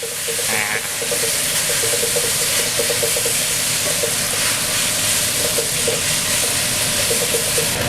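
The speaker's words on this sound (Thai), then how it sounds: "มันอาจจะมีเสียงฮูดหน่อยนะครับ" A steady, loud broadband whoosh of a range hood fan runs throughout, with faint sizzling and clinking of cooking underneath.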